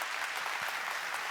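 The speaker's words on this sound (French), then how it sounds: "On vous applaudit." Applause from the audience at an inaugural conference session, continuous even clapping filling the whole brief moment at moderate level, with no speech over it.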